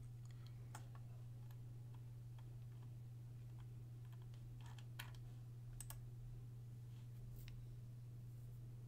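Light, scattered mouse and keyboard clicks, a few at a time at irregular intervals, faint over a steady electrical hum.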